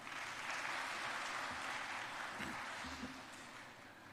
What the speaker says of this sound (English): A huge round of applause to him.